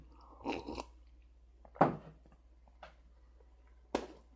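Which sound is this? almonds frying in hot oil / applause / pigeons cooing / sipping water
sipping water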